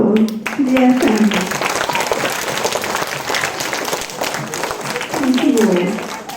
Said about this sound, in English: So shall we start by giving Cambridge One a round of applause